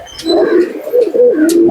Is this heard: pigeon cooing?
yes